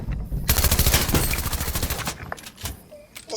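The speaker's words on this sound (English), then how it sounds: "This machine gun, the green machine pistol, reminds me of the Uzi." Rapid automatic fire from a green machine pistol in a video game, a dense loud burst of shots followed by a few scattered single shots and short bursts.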